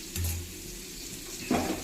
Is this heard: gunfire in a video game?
no